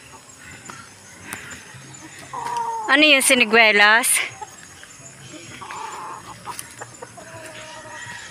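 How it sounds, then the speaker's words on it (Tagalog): Many chickens on a Philippine farm cluck and call around a nearby speaker, with a loud burst of fowl calls in the middle, while people talk in Filipino. "Daming manok."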